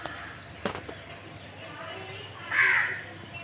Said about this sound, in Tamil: காக்காவும் வந்துச்சு சாப்பிட்றதுக்கு